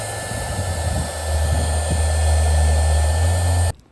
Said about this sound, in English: And now we hit it with the heat gun.